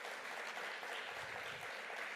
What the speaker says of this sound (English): Another round of applause for Terrance.